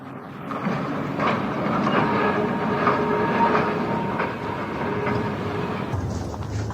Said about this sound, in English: The tram is also running again.